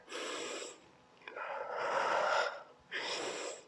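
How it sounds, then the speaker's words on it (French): Heavy breaths pushed out during donkey kick exercises in a home workout, three forceful exhalations in a row, close and breathy with short pauses between them. "Vous soufflez bien."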